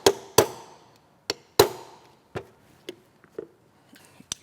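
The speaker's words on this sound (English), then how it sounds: "You'll want to use a hard plastic hammer to avoid deforming your roll pin." A hard plastic hammer taps a 3/32 roll pin punch to seat a roll pin in a pistol, a series of sharp close knocks at an uneven pace, some louder, some faint.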